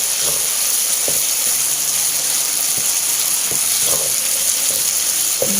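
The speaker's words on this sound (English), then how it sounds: "We fry until the potato is cooked." Potatoes sizzle and hiss steadily in a hot pan with sugar and chicken powder, with occasional soft pops and scrapes, close and constant.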